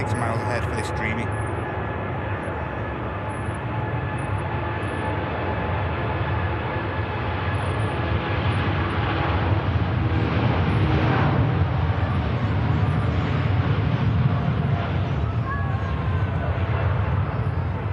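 Boeing 787 Dreamliner taxiing at Manchester Airport, bound for Mumbai: a continuous low jet-engine rumble and whine, moderately distant, swelling slightly as the aircraft rolls past.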